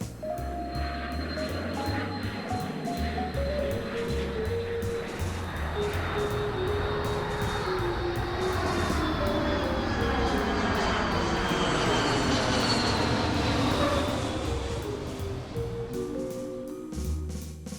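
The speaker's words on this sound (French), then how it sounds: "admirer la belle et douce Caravelle, comme disait le général de Gaulle, le premier biréacteur moyen courrier au monde" Sud Aviation Caravelle twin-jet medium-haul airliner, its engines roaring and whining as it passes, the tones sliding in pitch while the loud sustained rush swells and then eases toward the end.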